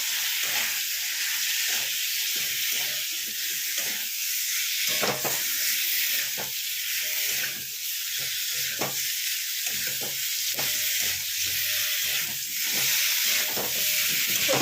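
Frozen chicken fries in a pan over high heat, giving a steady, moderately quiet sizzle and hiss with scattered crackles and pops throughout.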